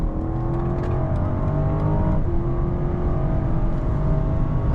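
A 2021 BMW 750i with a 650 hp engine accelerating on the highway, a loud steady interior drone with rising engine tones and constant road and wind roar, no talking.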